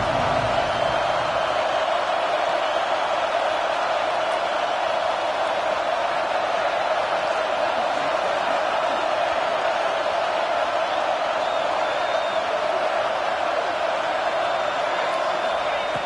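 A football stadium crowd roars steadily for the defense in the red zone, a dense, sustained wall of cheering and noise from a large audience heard at a distance.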